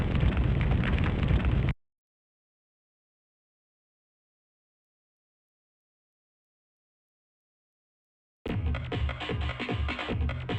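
In the video game Silent Bomber, explosions destroy anti-aircraft weaponry. Dense, booming blasts fill a short opening stretch, then total silence follows for several seconds before another run of loud, rumbling detonations.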